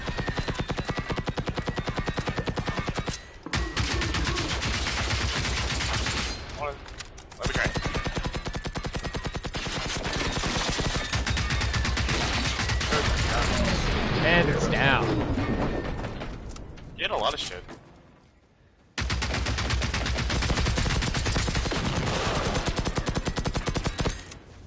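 Video game gunfire fills long stretches with dense machine-gun bursts and rapid shots, loud and sustained, broken by a few brief pauses.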